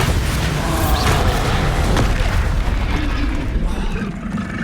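Bombarda blasting spell in the Hogwarts Legacy video game: loud, dense booming explosion with crackling debris, sustained and close throughout, with a sharp burst near the start and another mid-clip.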